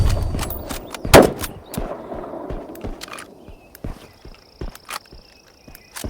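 A sniper rifle fires once in a video game, a sharp loud crack followed by a short decaying tail, with some lighter clicks and game sounds around it.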